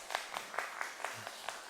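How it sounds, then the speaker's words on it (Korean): Quiet, scattered clapping from a church congregation welcoming visitors during a Sunday service, a handful of distinct claps at a steady rhythm. "따뜻한 환영의 박수 한번"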